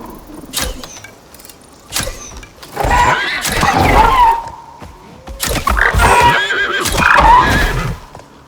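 A horse in the survival video game Icarus neighs twice, each loud whinny rising and falling over a second or so near the listener, with a brief clop and some game ambience between them.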